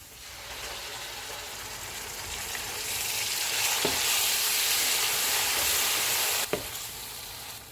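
Ginger garlic paste frying in a pan gives a loud, continuous sizzle that swells and holds steady, with a couple of sharp stirring knocks near the end and no voices.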